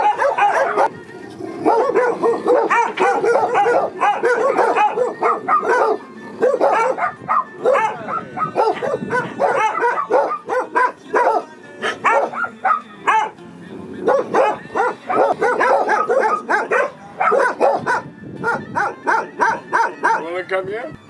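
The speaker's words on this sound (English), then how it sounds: "That's the Minoan dog. He breeds them." Several Minoan-breed dogs bark, yip and whimper in rapid, overlapping bursts, loud and close, with human talk mixed in among the barking.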